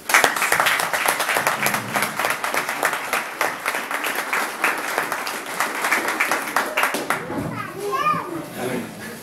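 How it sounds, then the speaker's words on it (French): Wedding guests applaud at the ceremony of Séverine and Salvatore, a dense, steady run of clapping mixed with children's voices and chatter, fading a little toward the end as a few higher voices stand out. "plus les applaudissements."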